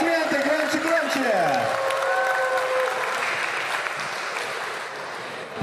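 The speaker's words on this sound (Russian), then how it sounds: "Аплодисменты, громче, громче." An audience at a board-game festival event applauds, dense steady clapping filling the room for several seconds and fading slightly toward the end, with a voice speaking over the start.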